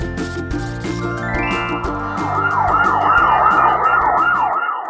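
An ambulance siren wails in loud, repeated rising and falling sweeps that take over midway, layered over a steady tonal backing that fades out right at the end.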